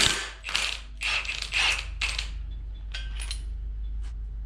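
A ratchet backs out the jack shaft bolt with a T55 Torx bit on a 2006 Mustang 4.0 V6 during timing chain work: close, rapid bursts of clicking pawl teeth, several runs in a row, followed by a few brief, softer clicks.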